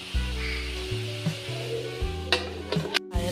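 Long beans for a Kerala mezhukkupuratti stir-fry sizzle softly in a covered pan, a steady low frying hiss with a few brief clinks and scrapes near the end.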